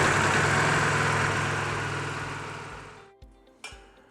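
A motorcycle engine with a radiator freshly filled with Evans coolant runs with a steady buzzing drone, then cuts off after about three seconds, followed by two light metallic clinks.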